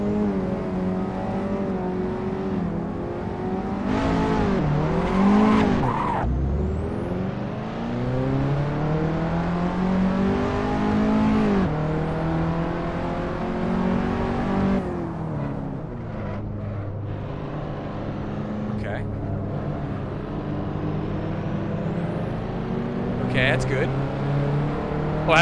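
A race car in Assetto Corsa revs hard and continuously, its engine pitch climbing through the gears and dropping sharply on downshifts, with tire noise and a voice talking over it.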